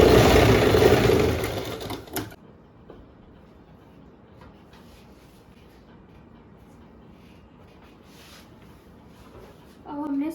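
A sewing machine runs loudly for about two seconds, stitching the main seam of a pant, then stops, leaving quiet room noise and a short burst of sound at the very end.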